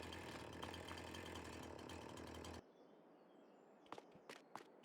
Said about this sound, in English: Does the chainsaw use money?